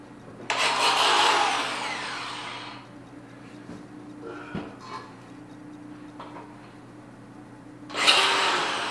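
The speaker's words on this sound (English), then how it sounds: "I'm gonna get my grinder." A power grinder works on a nut in two loud, harsh bursts, one at the start lasting about two seconds and another near the end, with quieter handling noises in between.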